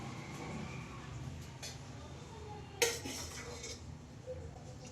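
Oil-fried gongura leaves are scooped from the pan onto a plate, with quiet scraping and a sharp metallic clink of a utensil midway, faint and close, over a low background hum.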